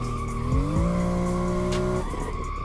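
A BMW M2 drifting in Assetto Corsa at a drift park, its engine note rising and holding while the tires squeal in a long, loud skid that fades into a rougher scrub near the end.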